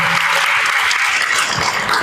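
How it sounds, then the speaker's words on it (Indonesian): Loud, dense audience applause fills a hall at a doctoral examination ceremony for a pediatric specialist, steady clapping throughout with no talk over it. "Sekali lagi kita berikan tepuk tangan untuk Dr. Rika"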